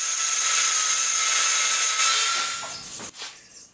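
A power saw with a 7¼-inch blade cuts through metal covered with scrap wood, giving a loud, steady high whine and grinding rasp that dies away near the end, followed by a short clatter.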